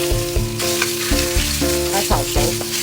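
Pork mince stir-frying in lard in a hot pan, a steady sizzle broken by repeated scraping and clanking of a spatula stirring the meat, close and continuous with no voices.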